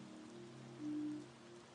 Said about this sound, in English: Rain fell in silver curtains, soaking the stone tiles.